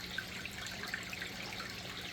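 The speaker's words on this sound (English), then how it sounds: "as that's dripping, that's adding fresh water." Water from a dehumidifier drips and trickles steadily into a container, a faint, close, continuous patter with small scattered drops over a low hum.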